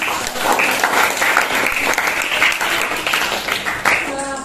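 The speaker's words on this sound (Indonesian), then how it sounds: "Iya, kita berikan tepuk tangan." A classroom of students applauds after a group's answer: dense, steady clapping from many hands for about four seconds, with a voice rising briefly at the very end.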